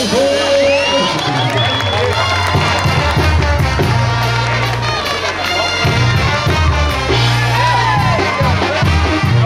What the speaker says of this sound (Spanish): que se oigan los aplausos